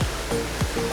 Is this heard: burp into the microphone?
no